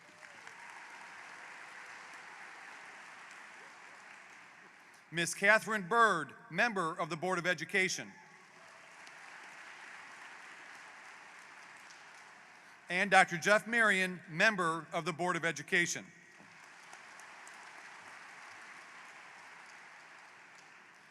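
A crowd at the Fort Zumwalt West High School 2026 graduation claps steadily for Board of Education members, with the applause filling the gaps between a speaker's announcements.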